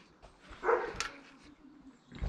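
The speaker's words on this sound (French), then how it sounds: "chien de merde, il continue de gueuler" A dog barking in the distance during engine work on a cylinder head, one or two muffled barks standing out over low background noise.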